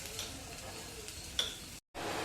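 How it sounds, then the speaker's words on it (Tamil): Soya chunk gravy masala being stirred and sautéed in a little oil, a soft steady sizzle with light scraping and ticks of the spoon in the pan, faint and close, no talking. "பொறுமையாக கலந்து விடுங்க."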